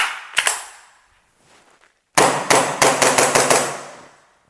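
An airsoft CO2 blowback pistol with a heavy slide fires one sharp crack, then after a pause six rapid snappy shots in quick succession, each with a metallic clack, close and loud.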